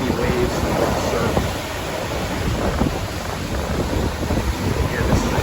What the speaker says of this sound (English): And we've got some heavy waves and rough surf.